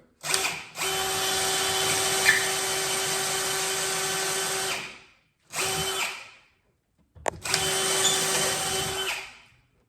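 A power drill fitted with a non-wood bit whirs in three bursts, a long steady run, a short one, then another long run, each starting and stopping abruptly with quiet gaps between.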